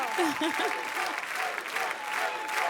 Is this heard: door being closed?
no